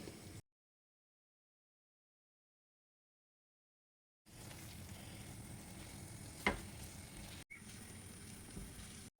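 Scrambled eggs frying and stirred in a pan, a soft, low sizzle heard briefly at the start, then after a long silence a steadier faint sizzle with an occasional scrape, no talking.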